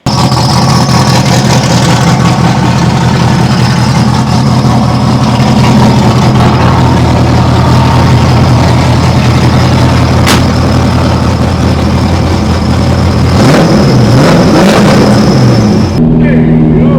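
A BMW E46 race car engine runs steadily and loud close by, warming up with a low, continuous drone and some rougher revving swells near the end, while a voice talks over it.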